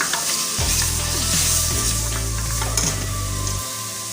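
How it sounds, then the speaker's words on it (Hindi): Finely chopped onions, cut medium-small, hit hot oil in a pot while cooking aloo gosht, bursting into a loud, steady sizzle with stirring scrapes and clatter throughout. "सबसे पहले ये देखिए मैं डालूंगी इसमें प्याज"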